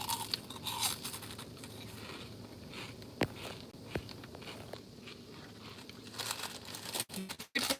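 Crunchy Taco Bell cinnamon twists, puffed snacks coated in cinnamon sugar, crackle and crinkle close up in a steady run of small crunches and rustles, with a few sharper snaps near the end and no talking.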